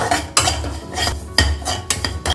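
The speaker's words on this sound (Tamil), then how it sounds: "2 டேபிள் ஸ்பூன் ரவையை நல்லா வறுத்துக்கலாம்." A metal spoon repeatedly scraping and clanking against a pan while stirring semolina roasting in ghee, with a rhythmic pattern of loud strokes and a frying sizzle underneath.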